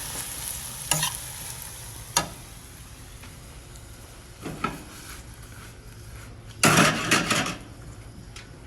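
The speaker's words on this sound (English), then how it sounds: "Stir that around a little bit, coating the noodles with the sauce." Shrimp lo mein noodles being stirred through sauce in a stir fry, with a faint steady sizzle and a few sharp scrapes and clatters of a utensil against the pan, the busiest burst coming near the end.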